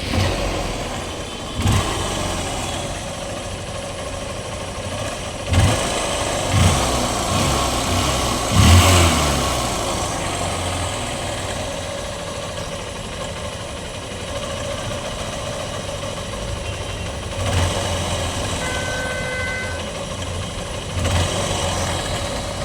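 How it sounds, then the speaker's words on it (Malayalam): A used two-wheeler engine starts and keeps running, a steady mid-pitched idle with occasional revs and sharp bumps, close and continuous throughout with no talk. "നമുക്കൊന്ന് സ്റ്റാർട്ട് ചെയ്ത് നോക്കാം എങ്ങനെയുണ്ട് സൗണ്ട്"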